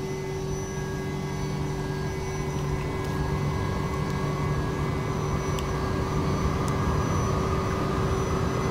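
Aircraft cruising low in X-Plane 11, a steady loud engine drone with constant tonal whine and roaring airflow, unbroken and alone throughout.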